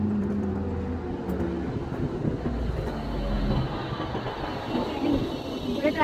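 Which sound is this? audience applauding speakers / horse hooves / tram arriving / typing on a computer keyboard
tram arriving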